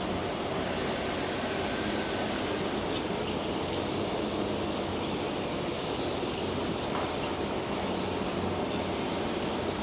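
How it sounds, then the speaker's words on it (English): A pressure rinse blasts power foam degreaser and oily buildup off a transmission, giving a steady, close, loud hissing roar that runs without a break and with no talk. "A little bit more of that power foam to power rinse all this business off of here."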